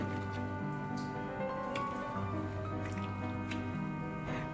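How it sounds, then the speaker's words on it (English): Coconut milk, 200 ml, poured into a homemade Thai green chicken curry, soft close liquid pouring with wet dripping and squishing under a steady background hum. "200 ml of coconut milk going into the curry"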